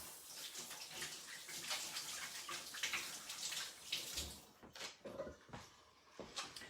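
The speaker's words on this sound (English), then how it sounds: "I'm gonna go wash my hands" Hands are washed under a running kitchen tap, a steady close hiss of water with splashing that then breaks into intermittent rinsing splashes and knocks as the flow is interrupted, no talking.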